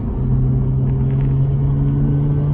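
A Mazda RX-8 rotary engine, 231 bhp, drones steadily while driving at around 6,000 RPM, a loud continuous tone heard from inside the car with road rumble beneath.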